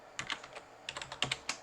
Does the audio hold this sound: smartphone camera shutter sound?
no